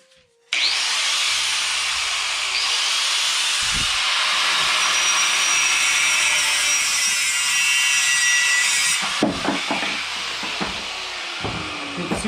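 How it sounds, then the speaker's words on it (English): An angle grinder fitted with a thin metal cutting blade slices through metal during a bathroom remodel, a loud continuous high-pitched whine and grind that runs for about eight seconds before winding down into scattered clatter. "I use a grinder with a metal cutting blade on it."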